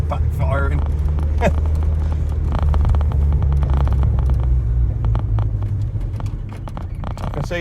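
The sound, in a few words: Renault 11 engine backfiring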